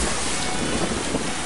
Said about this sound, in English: It's quite gusty as well going over these mountains.